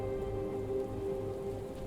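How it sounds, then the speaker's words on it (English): Steady rainfall in the video game South of the Circle, a dense, even patter of drops on surfaces with a low droning tone underneath, constant and close with no voices. "I knew it wouldn't last. What? The rain."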